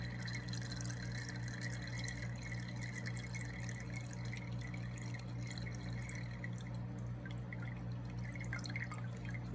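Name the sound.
water draining from a wet palette into a water pitcher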